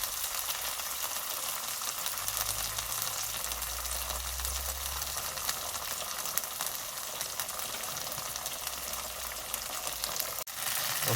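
Garlic puree frying in a pan for beef keema, a steady close sizzle and crackle running throughout with a brief soft stir, no talking.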